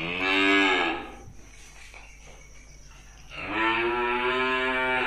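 Cattle at a cattle market in Tra Vinh, including fattened bulls and breeding cows, give two long, loud, close moos separated by a quieter pause, with no talk.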